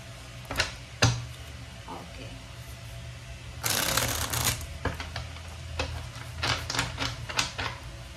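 Rapid riffle shuffling of tarot cards, several short bursts of flicking and a longer crisp shuffle in the middle, close by with faint background noise.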